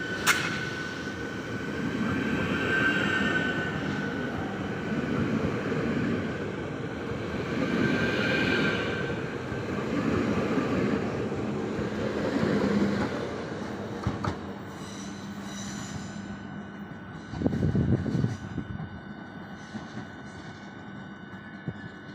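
A RegioJet train departs a station and rolls along the rails with a steady rumble, wheels clattering and faintly squealing, the sound rising and easing over its length with no talking.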